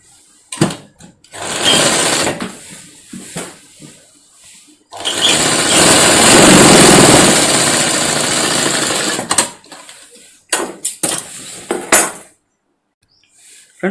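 A sewing machine stitches lining onto long frock cloth in loud, whirring bursts: two short runs, then a long sustained stretch of several seconds, followed by brief stop-start pulses and quiet pauses between them.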